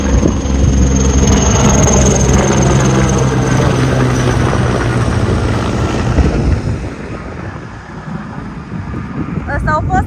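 A firefighting helicopter passes close overhead above Athens, a loud rotor and engine roar that dominates, then slowly fades as it moves away, with brief chirps near the end.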